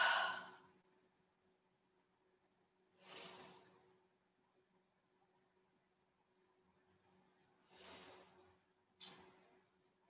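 Slow, deep breaths drawn during a child's pose stretch in a studio stretch class, four soft separate exhalations spaced a few seconds apart over a quiet background.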